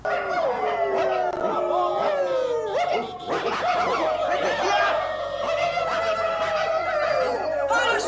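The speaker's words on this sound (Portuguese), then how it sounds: "E esses uivos, né, esse chamado chega também no campo." Several dogs howling together, long wavering overlapping howls rising and falling continuously, loud and close.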